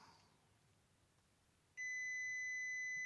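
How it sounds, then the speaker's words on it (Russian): A WinAPEX multimeter's continuity beeper sounds across a 20-ohm resistance: a quiet pause, then a sudden steady high-pitched electronic tone held without a break to the end. "Сопротивление маленькое, он пищит."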